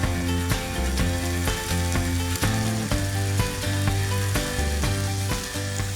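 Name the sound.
lamb backstraps frying in a hot pan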